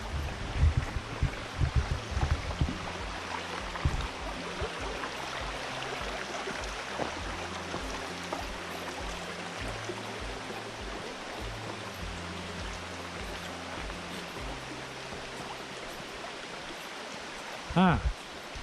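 A river flows steadily in the Great Smoky Mountains, a continuous broad rushing wash that holds evenly throughout, with some low thumps early on and a brief sharp knock near the end.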